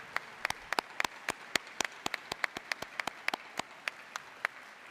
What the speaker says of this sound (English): One more round of applause for Molina.